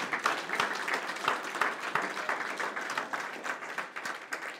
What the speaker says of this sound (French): Nous pouvons acclamer le roi des rois, le Seigneur des seigneurs